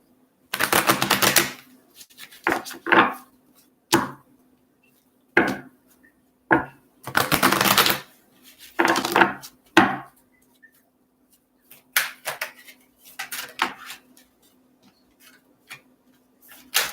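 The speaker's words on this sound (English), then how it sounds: "A couple more shuffles here." Tarot cards being shuffled by hand, heard as a series of short, crisp papery riffling bursts with brief pauses between them, close and fairly loud, with no talking.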